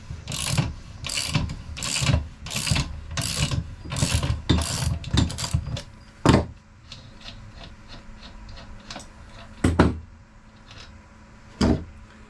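A ratchet wrench on the bolt head side loosens an axle bolt on a Honda Grom. A quick run of close, sharp ratcheting clicks is followed by a few isolated louder clicks and knocks.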